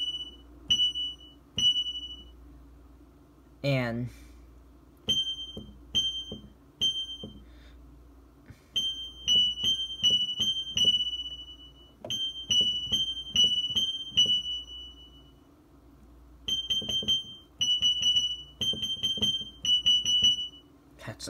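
An electric piano mimics a smoke and carbon monoxide alarm, repeating bursts of high, piercing beeps in quick groups with short pauses, and a brief word spoken once.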